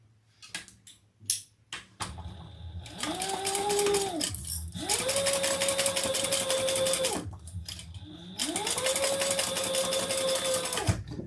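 A home sewing machine runs in two long steady bursts, stitching a seam through fabric and lining, with a rhythmic motor hum and needle clatter and a few soft handling clicks and thumps before the stitching starts.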